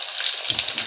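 Whole spices, cumin and mustard seeds hit hot oil in a pan, a brief bright sizzling hiss with faint crackles and pops.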